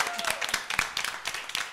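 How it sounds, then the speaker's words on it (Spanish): Applause breaks out for a production staff member on a live show, with quick overlapping claps that sound moderately near and fill the short moment without a break. "Un aplauso para ella."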